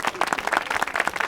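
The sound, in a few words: audience applause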